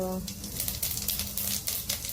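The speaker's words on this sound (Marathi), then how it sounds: "तसा तडता आहे फोडणी चांगली झाली की नाही" Cumin, mustard seeds, turmeric, chili powder and asafoetida crackle and sizzle in hot oil, a steady fizzing close by with small pops, and a brief hum at the start.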